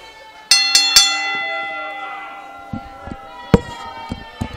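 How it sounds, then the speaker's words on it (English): A wrestling ring bell rings to end a cage match: three quick loud clangs that ring out and decay, followed by scattered crowd noise and thuds. "Ring the bell."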